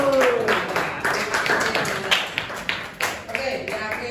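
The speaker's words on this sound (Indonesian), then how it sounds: "Oke, tepuk tangan." A classroom group claps hands together in quick, scattered taps, a loose burst of close-up applause with a voice speaking over it.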